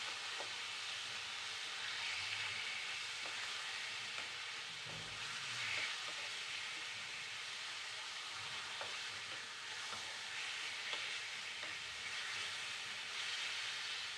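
Chicken gizzards sauté with browned garlic and onion for adobong atay balon-balunan, a soft, steady frying hiss with faint stirring scrapes, heard up close but quiet throughout.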